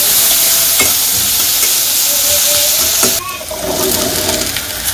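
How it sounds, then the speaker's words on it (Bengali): Loud, steady sizzle of onions and green chillies frying in oil, broken by a few clinks of stirring. The sizzle softens slightly partway through and carries on without talk. "পেঁয়াজ আর কাঁচামরিচগুলো একটু ভাজে নেই"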